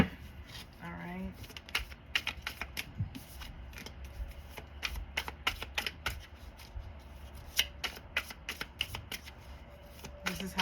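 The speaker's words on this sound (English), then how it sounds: "This is how I'm shuffling the deck" A tarot card deck being shuffled by hand, giving rapid bursts of crisp card riffles and slaps in an irregular rhythm, close and clear; a voice speaks briefly near the start.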